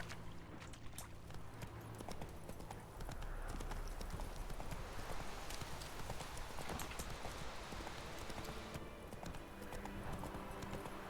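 Roach the horse trots in The Witcher 3, hooves clip-clopping in a steady rhythm over a constant wash of ambient wind and outdoor noise, moderately close and unbroken throughout.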